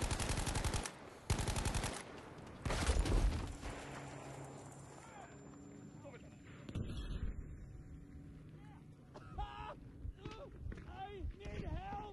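Battlefield 5 gunfire on PS4 Pro: loud bursts of automatic fire in the opening seconds, then scattered shots and distant crackle under voiced chatter and a tense game soundtrack.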